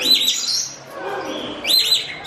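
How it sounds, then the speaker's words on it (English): An Eclectus parrot gives loud, shrill shrieking calls in two bursts, one at the start and one near the end, with a quieter stretch between them and no talk. "a jealous ECLECTUS takes revenge from his favorite human by constant shrill shrieks"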